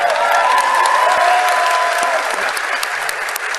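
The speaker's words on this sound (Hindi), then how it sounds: "ये देखिए पाकिस्तानी डांट खाकर भी ताली बजा रहे हैं।" An audience in a replayed recording claps loudly and continuously, with dense crowd applause holding steady before easing slightly near the end, while a faint tonal sound rings underneath.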